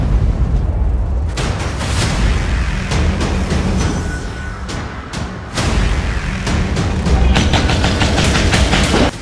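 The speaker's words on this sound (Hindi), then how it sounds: "इजराइल की तोपें गरजने लगी हैं।" Heavy booms and sharp blasts of Israeli artillery fire pound in rapid, overlapping bursts, loud and continuous throughout.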